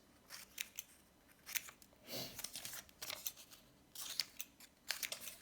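Scissors snip through paper pictures of apples and bananas during a kindergarten cutting-and-sorting lesson, in a string of short, close, crisp bursts with small pauses between, and no talk over them.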